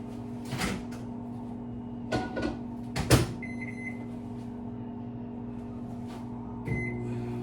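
A microwave oven hums steadily in a kitchen, its door clunking and clicking a few times with short beeps, while casserole ingredients are set to melt inside; no one speaks.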